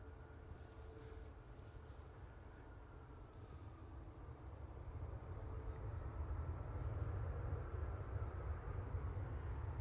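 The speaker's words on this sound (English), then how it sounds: "He's just touched down from Salzburg. Boeing 737-800." A Boeing 737-800 touching down at Manchester Airport after a flight from Salzburg, its steady broadband engine roar rising gradually and holding loud and close for the whole stretch, with no voices over it.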